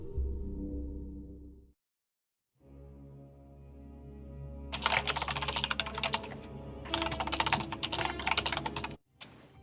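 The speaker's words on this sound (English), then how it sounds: "Oh, I was typing it, but too late." Rapid clattering keystrokes on a computer keyboard come in two dense bursts, close and fairly loud, over a steady low hum that drops out briefly partway through.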